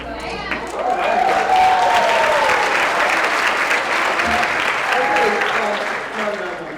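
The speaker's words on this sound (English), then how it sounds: "We don't have time for applause." A symposium audience breaks into applause, swelling after a quieter start and holding as a dense, loud clapping wash, with some voices and murmurs running underneath before it fades near the end.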